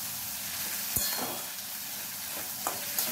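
Spice paste with turmeric sautéing for jackfruit curry, a soft steady sizzle broken by a few spoon scrapes and stirring knocks, fairly quiet and close.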